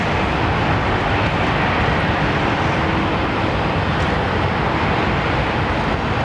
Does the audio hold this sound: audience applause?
no